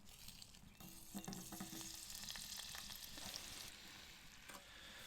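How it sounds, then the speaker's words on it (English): Onions frying in a little hot oil at a camp cooking spot, a steady close sizzle with faint crackles and a few scraping stirs, no voices. "We'll just put a little bit of oil into there. We'll just wait for that to heat up. I'll just put the onions in."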